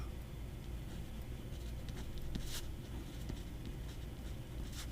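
A fountain pen nib glides over smooth, coarse Amalfi paper, making a faint, continuous soft scratch with small strokes close to the microphone and no talking.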